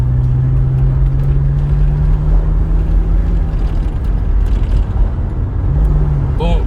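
Engine drone from a 2000–2006 BMW 330Ci convertible with a 3-litre inline six, heard from inside while driving in traffic: a steady hum with road noise throughout.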